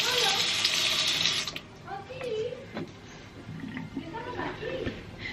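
Clothes are washed by hand in a sink. A tap runs loudly at first and then stops, followed by softer sloshing and splashing of water close by, with a voice talking over it.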